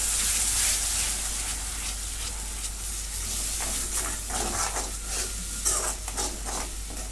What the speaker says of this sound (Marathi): आता ही पण भाजून घेते चांगली.